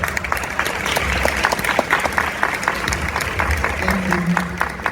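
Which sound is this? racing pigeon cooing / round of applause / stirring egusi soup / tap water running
round of applause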